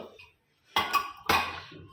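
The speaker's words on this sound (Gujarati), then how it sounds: "હવે આપણે કુકર ખોલીશું." Pressure cooker being opened after its steam has been released, two close metallic clanks of the lid in quick succession, loud and alone.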